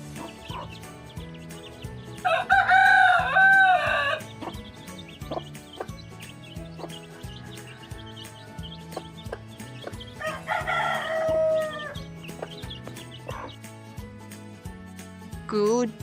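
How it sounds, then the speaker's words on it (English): A rooster crows twice, each loud, drawn-out cock-a-doodle-doo standing out clearly over a steady background of rhythmic music, with a few faint clucks between the calls. "Chicken."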